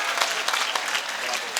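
Dense, steady applause from a large crowd at a mushaira poetry gathering, loud and continuous throughout with no gaps.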